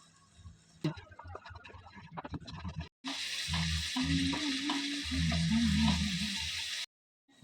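Spiced potato masala with turmeric, Kashmiri chilli, salt and sugar frying in a pan, a loud steady sizzle with repeated scraping stirs for several seconds after a quieter stretch of handling noises.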